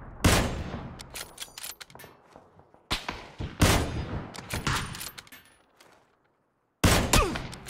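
Gunfire in PUBG, with loud sharp shots cracking in irregular bursts, some rapid follow-up shots and fainter distant pops, a short quiet gap, then another close, loud shot.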